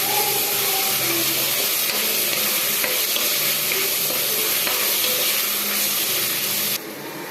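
Vegetables being stirred in a hot frying pan give a loud, steady, continuous sizzle that hisses without a break, then drops slightly at the very end.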